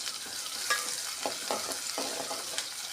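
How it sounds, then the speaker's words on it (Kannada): Onions frying in oil in a pan for chicken masala gravy, a steady soft sizzle with intermittent scraping stirs, close and fairly quiet, no voices. "ಅದು ಉಳ್ಳಾಗಡ್ಡೆ ಚೆನ್ನಾಗಿ ಫ್ರೈ ಆಗಬೇಕ್ರಿ. ಎಣ್ಣೆಯಲ್ಲಿ ಕೆಂಪು ಬಣ್ಣ ಬರೋ ತನಕ ಫ್ರೈ ಮಾಡಿರಿ ಅದನ್ನು"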